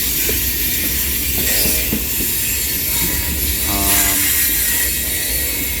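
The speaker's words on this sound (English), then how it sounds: "Those flanges rubbing." Steel wheel flanges of a park train squeal and grind against the rail on a curve, with loud rumbling wagons passing close by and two distinct pulsing metallic screeches rising over the steady clatter.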